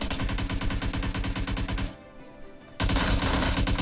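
Dense, rapid automatic gunfire rattles continuously in PUBG Mobile during a tournament match, loud and close. It breaks off briefly for about a second before resuming just as heavily, with no voices audible.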